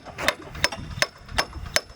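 Hammer blows on a timber frame under construction ring out five times at a roughly steady pace, sharp and fairly close, with quiet workshop ambience between strikes.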